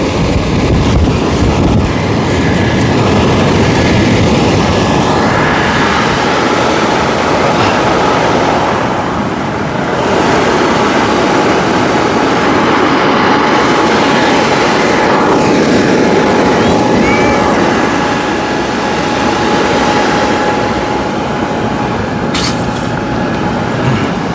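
Loud, steady roar of 950W and 550W blower fans inflating a paint booth, running continuously, with a broad rushing drone and a faint tonal hum that dips briefly now and then.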